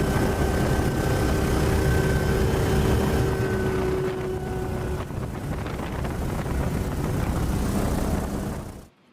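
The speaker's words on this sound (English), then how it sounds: "listen really carefully to the sound that the helicopter's making" A helicopter in flight with an odd thumping note, heard as a loud, steady engine and rotor drone with wind rush and a low pulsing beat, no talking, cutting off at the end.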